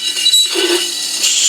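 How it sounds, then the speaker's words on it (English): A foot trimming tool scrapes leather-hard clay on a spinning potter's wheel while throwing cups, giving a steady close, rough scraping with brief higher squeaks and clinks. "Sorry about the scrapey noise."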